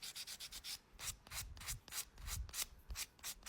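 A nail file buffs a fingernail during a quick manicure, with light, rapid back-and-forth rasping strokes repeating steadily and close up.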